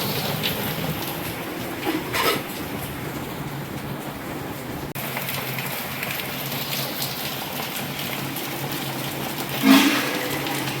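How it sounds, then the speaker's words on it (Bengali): Steady rain pours down outside, a constant hiss with a few louder splashes and gusts, no voices heard. "প্রচুর মেঘ, প্রচুর বৃষ্টি হচ্ছে।"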